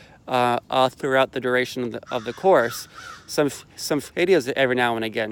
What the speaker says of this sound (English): Sorry about the birds. It's just morning here in Florida,